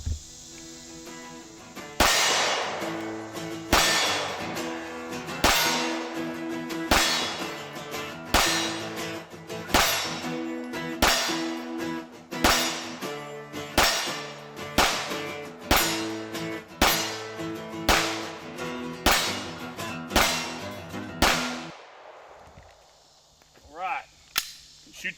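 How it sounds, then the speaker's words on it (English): A Glock 17 Gen 5 pistol fires at steel targets outdoors, with about fifteen sharp, loud shots at a steady pace, each followed by a ringing metallic ping, then a brief pause and a couple of softer knocks. "All right, let's shoot that metal."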